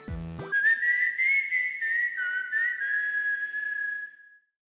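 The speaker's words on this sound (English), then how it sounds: "Whistling a tune, he's there." A character whistling a cheerful tune in a Chocobo racing game story scene, a clear solo melody of sustained, wavering notes lasting a few seconds, heard alone after a brief musical sting at the start.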